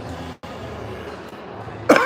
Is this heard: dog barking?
no